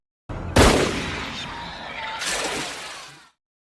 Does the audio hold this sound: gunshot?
yes